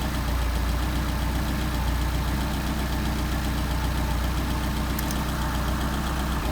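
A car engine fitted with Solex 44PHH carburetors idles at about 775 rpm, giving a steady, loud, close low rumble with an even pulsing throb and no change over the whole stretch.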